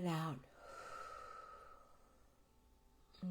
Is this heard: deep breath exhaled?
yes